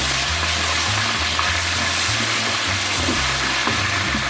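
Garlic and ginger paste frying in a pot for Karachi-style beef nihari, giving a steady, loud sizzle with a faint stirring clatter and no talk.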